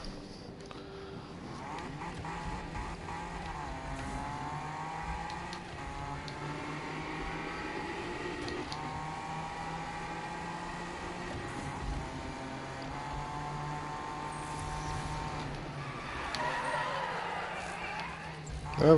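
Engine of a BMW M2 race car in Need for Speed 2015, a steady droning hum with rising and falling pitch as it revs and shifts, sitting beneath a player's talk throughout.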